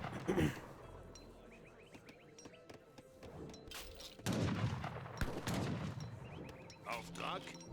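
Heavy cannon artillery fire during an Age of Empires 3 battle: several booming blasts and bursts of gunfire scattered through the clip, with a commentator talking over the combat.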